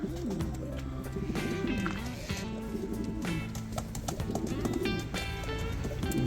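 Sherazi pigeons, a newly brought female placed with a male for pairing, coo in a steady low rolling drone with overlapping calls and occasional faint flutters and chirps, close by.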